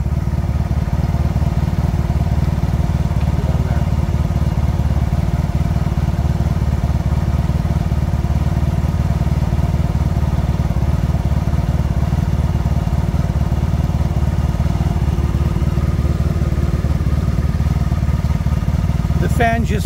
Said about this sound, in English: So the radiator fan is on.